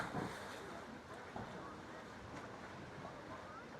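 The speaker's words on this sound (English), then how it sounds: "So the water goes rushing way up into that cave right there." Sea water surges into and drains out of a coastal cave at low tide on a windy day, a steady broadband rushing roar with wind buffeting the microphone and a few soft thuds.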